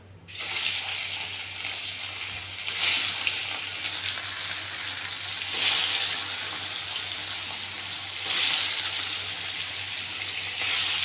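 Fish frying in hot oil, a continuous close hiss that swells in broad surges every few seconds, with no talk over it.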